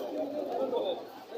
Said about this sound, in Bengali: এটা হচ্ছে একটি মাদি কবুতর, এটার দাম চাচ্ছে 2000 টাকা